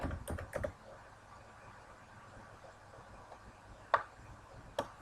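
Someone typing on a computer keyboard to fill in a form: a short flurry of clicks at the start, then quiet with two isolated key taps later, faint and close.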